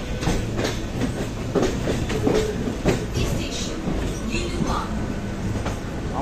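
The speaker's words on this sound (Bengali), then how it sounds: "আমাদের ট্রেন ছেড়ে দিল হাওড়া স্টেশন থেকে।" A local train pulls out of Howrah station, its wheels giving a steady, close clickety-clack and rumble from the carriages throughout, with a few sharper rail clanks.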